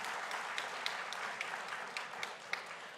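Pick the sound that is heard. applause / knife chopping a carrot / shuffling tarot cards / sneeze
applause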